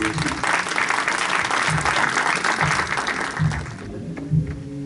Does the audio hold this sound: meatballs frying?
no